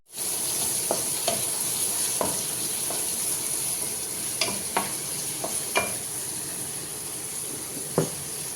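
Chicken curry ingredients sizzle and fry steadily in a pan, a constant hiss punctuated by scattered clicks and stirring scrapes, close and without talk.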